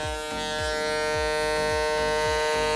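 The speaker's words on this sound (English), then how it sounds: "the next step is the clipper over comb" Electric hair clippers buzzing steadily at close range during a clipper-over-comb step of a mid skin taper haircut, with a constant motor whine and a faint rhythmic ticking as the blade moves through the comb.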